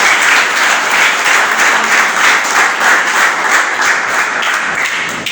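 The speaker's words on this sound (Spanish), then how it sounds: "Denle un aplauso al Señor" Church congregation applauds during a Spanish-language sermon, a loud, continuous wash of many hands clapping at an even level for several seconds, fading slightly at the end, with no voices over it.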